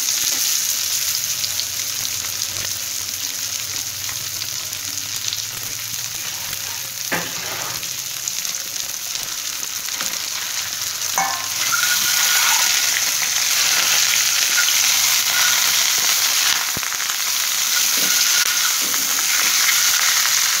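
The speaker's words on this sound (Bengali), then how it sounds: "ডিম সিদ্ধ হয়ে গেছে, এখন আমি ডিমটা তেলে ভেজে নিব।" A boiled egg, pricked and rubbed with salt and turmeric, frying in mustard oil on a hot pan, a continuous close sizzle that grows louder and brighter midway with occasional stirring clicks.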